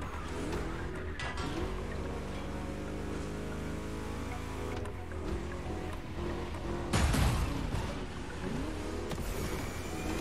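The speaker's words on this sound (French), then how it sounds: "on va conduire une Lamborghini" Lamborghini engine revving in the racing game The Crew Motorfest, a steady loud drone with shifting pitch over game music, rising into a louder surge of acceleration near the end.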